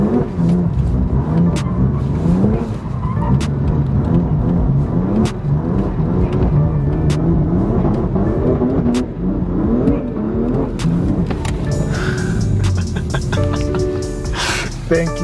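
A modified BMW M car revs hard and drifts sideways while leaving a car meet, a loud sustained engine roar with rising and falling pitch, sharp pops and tyre noise near the end.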